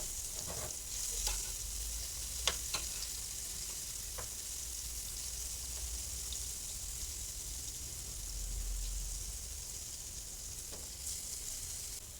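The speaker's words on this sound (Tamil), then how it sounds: "எண்ணெய் காஞ்சதும் ஒவ்வொரு பீஸாக எடுத்து ஃப்ரை பண்ணி எடுத்துட வேண்டியதான்" Veg fish fry pieces frying in hot oil on a tawa, giving a steady, close sizzle with a few sharp spatters and pops throughout and no talking.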